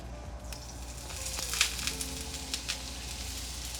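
Drained ground meat, strained of excess grease, returns to a hot pan and gives a faint, low sizzle with scattered crackles and pops, heard alone without talk.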